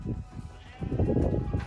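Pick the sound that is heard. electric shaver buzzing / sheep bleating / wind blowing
sheep bleating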